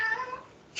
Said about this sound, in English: Was that a cat being tortured?